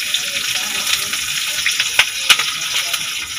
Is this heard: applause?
no